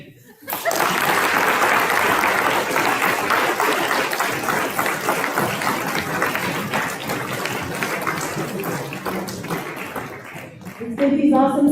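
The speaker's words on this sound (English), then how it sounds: "give these awesome speakers another round of applause" Audience applause after senior speeches, a long steady burst of clapping with some cheering, fading toward the end as a voice begins talking.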